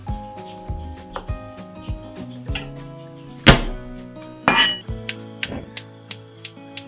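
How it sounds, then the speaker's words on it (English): Carrot cut into large pieces, then garlic smashed, on a kitchen board: scattered knife knocks and thuds, a couple of heavier smacks, then a steady run of crisp evenly spaced chops near the end. "Cut the carrot in large pieces. And smash the garlic for more intense aroma."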